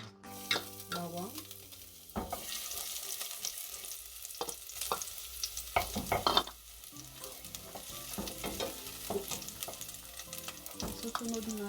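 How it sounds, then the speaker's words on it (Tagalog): Garlic sautés in a pan with bursts of sizzling and crackling oil, and a utensil clatters and stirs at intervals. The frying sounds loud and close at times, with quieter stretches in between. "tsaka na natin umpisahan igisa"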